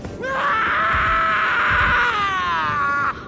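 In Elden Ring Shadow of the Erdtree, a man gives one loud, drawn-out anguished scream. It holds for about three seconds and then breaks off, with rough grunting underneath.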